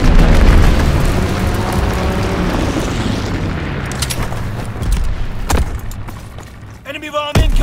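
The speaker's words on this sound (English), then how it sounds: "Enemy bomb incoming! Get to cover!" Heavy bombs detonate in a Call of Duty WWII battle, a loud rumbling blast rolling on for seconds, followed by further booms and a sharp crack near the end, with a voice faintly in the mix.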